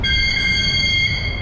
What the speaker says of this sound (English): the magic moment as the tram begins to leave